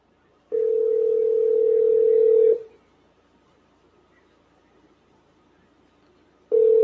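A telephone ringback tone heard while calling back a phone: a steady mid-pitched tone rings for about two seconds, falls silent for roughly four seconds, then starts again, with no voices over it.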